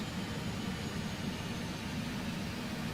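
Aircraft engines in Microsoft Flight Simulator 2020 give a steady, broad jet roar with a low rumble as the throttles are pulled back, holding an even level throughout.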